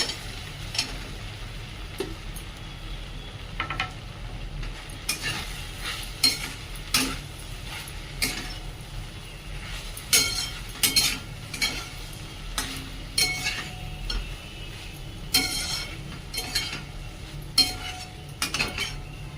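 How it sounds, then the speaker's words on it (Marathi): Crumbled idlis stir-fried in a pan at home, the spatula scraping and tossing in steady, repeated strokes over a soft background sizzle, fairly close and with no talking. "परतल्यानंतर ह्या बारीक केलेल्या इडल्या आपण त्यामध्ये टाकून घेऊया"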